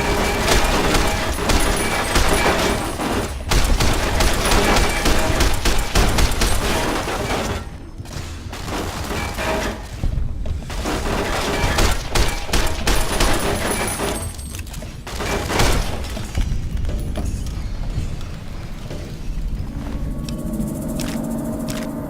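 A service rifle fires repeatedly in Fallout New Vegas, loud sharp shots and booming impacts spaced irregularly across the stretch, with quieter gaps between volleys and no talking.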